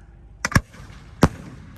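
Fireworks shells are launched outdoors during a thunderstorm on the Fourth of July, with two quick sharp booming pops close together and a third a moment later, loud and nearby with no voices.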